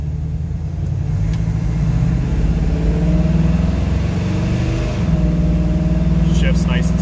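A 1968 Chevrolet C10 truck engine pulling under acceleration, a steady loud rumbling drone that rises in pitch, dips briefly around a shift, then climbs again, heard from inside the cab.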